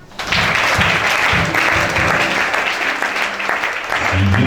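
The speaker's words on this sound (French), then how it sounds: "Acclame Jésus" Church congregation applauding during a worship service, steady dense clapping throughout with a few voices mixed in.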